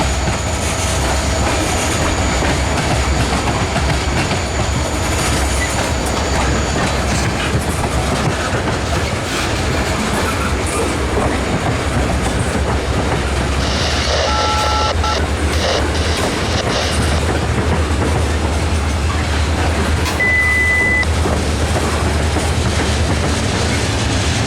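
Wheeling and Lake Erie tank train hauled by two SD40T-2 locomotives rolling slowly across the diamond at Brewster, a steady nearby rumble of wheels with rhythmic clickety-clack over the crossing and brief wheel squeals.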